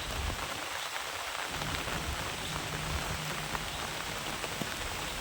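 Heavy, fast rain pours onto a rooftop garden, a dense, steady hiss that stays even and unbroken throughout, with no voices.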